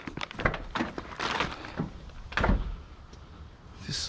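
Old scrap sliding doors, wooden, being handled and shoved on the street; a string of close rattling knocks, scrapes and clunks in uneven bursts, fairly loud.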